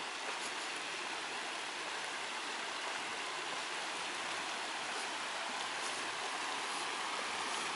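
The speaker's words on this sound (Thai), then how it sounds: "ลำธารยังดีๆอยู่" A steady, continuous rush of flowing stream water in northern Vietnam, even and unbroken throughout, with no voices.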